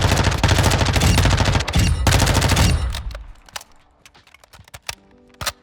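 Rapid automatic gunfire in the shooter game Modern Warfare II, a loud dense burst lasting a few seconds that stops abruptly, followed by scattered single shots and clicks at lower level.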